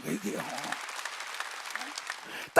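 A church congregation claps throughout a sermon, making a dense, continuous patter of many hands at moderate volume that ends with a short, louder burst up close.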